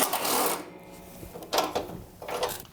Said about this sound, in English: I'll be using my impact to remove them.